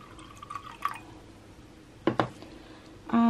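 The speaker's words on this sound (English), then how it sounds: "And then pop some more water in there." Water goes into a glass used for testing water-based liquid dyes: a few short, close drips and splashes, then a brief burst of pouring near the end.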